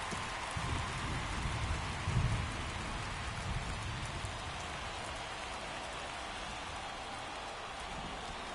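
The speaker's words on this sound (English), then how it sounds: "This rain is not letting up." Steady rain pours in a baseball video game, a constant hissing patter of drops on the ground with a faint low rumble near the start, heard alone without commentary.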